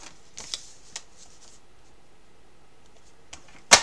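Paper for a 15 x 15 cm album page being cut to 13.4 cm, with faint scratchy handling sounds followed by one sharp, close cutting snap near the end.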